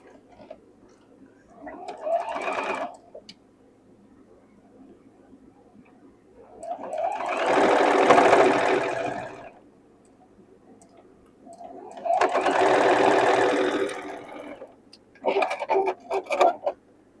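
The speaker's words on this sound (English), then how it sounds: "let's sew these together. Nest these little seams." Sewing machine stitching quilt block seams, heard as four separate runs of steady mechanical whirring with quiet pauses between them. The runs vary in length, with two longer, louder ones in the middle.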